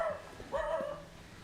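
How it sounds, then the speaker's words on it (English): A dog barks and whimpers in a forest setting in Đắk Lắk, Vietnam, giving a few short, moderately loud yips and a longer whining bark at middle distance. "The dog is barking."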